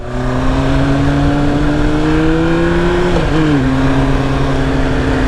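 Original 1998 Yamaha R1 one-litre motorcycle engine pulling hard, a loud, close, steady engine drone that climbs slowly, dips briefly around a shift midway, then carries on.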